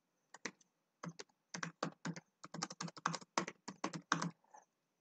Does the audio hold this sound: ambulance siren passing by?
no